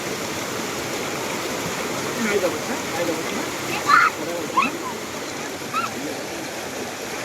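Dhanagar waterfall and a flowing stream make a steady broadband rush throughout, with a few brief splashes and people talking over the water.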